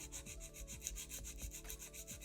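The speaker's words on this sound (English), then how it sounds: "My first step in filing is straight out from the nail groove on the left" A nail file rasps steadily over a long acrylic nail, a soft, close scratching with a repeated back-and-forth rhythm, quiet and without speech.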